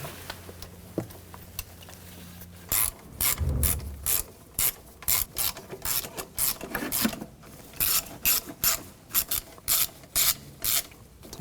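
A bolt is threaded and tightened on the idle air control valve of a 1995-2004 Toyota Tacoma, a run of quick ratchet clicks in short rhythmic bursts, close and fairly quiet after some faint handling.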